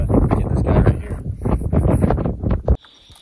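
Strong wind outdoors during a summer snake hunt in Colorado, heavy gusty rumble buffeting the microphone in pulses, then cutting off abruptly near the end.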